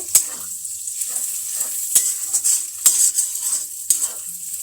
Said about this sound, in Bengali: এবার এগুলো একসাথে আস্তে আস্তে ভেজে নিচ্ছি। পেঁয়াজটা এবার দিয়ে দিলাম মিশিয়ে।